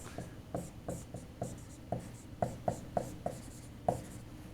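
Chalk taps and scratches on a lecture-hall board as an equation is written, a series of short, sharp strokes in an irregular rhythm, close and fairly quiet with no talk.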